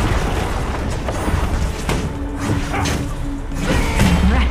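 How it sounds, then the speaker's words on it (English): An enemy turret being destroyed in League of Legends: Wild Rift, heavy booming crashes and thuds layered over dense game effects, loud and close with no speech. "Let's keep going and destroy the enemy turret."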